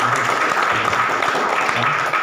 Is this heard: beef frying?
no